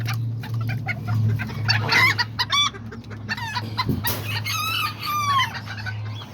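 Azteca and Serama roosters crow repeatedly and cluck nearby in a backyard coop, with a steady low hum running underneath and no talking.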